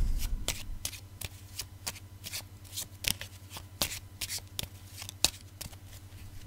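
Tarot cards being shuffled and laid out by hand at close range, with repeated crisp riffling snaps and slaps in an uneven rhythm over a faint low hum; no talking.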